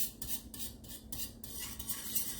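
A spoon scrapes and clinks against a pot while chicken is stirred, several quick rhythmic strokes up close over a low background bubble.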